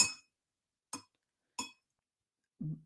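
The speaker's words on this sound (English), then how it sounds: "I'm sure you can hear the clinking on the glass" A teacup clinks three times on bone china, sharp and bright, about a second apart, followed by a softer, duller knock, in a quiet setting.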